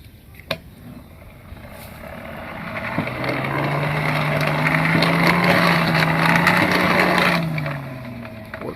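A full-size, heavy-duty Climax hand-cranked bellows from the Buffalo Forge Company spins up into a steady whirring hum and rushing air, swelling louder midway and then winding down, with a few knocks before it starts.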